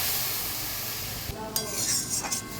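About two cups of milk poured over carrots frying in ghee for carrot halwa; a steady sizzle gives way to a brief splashing hiss and bubbling partway through, close up.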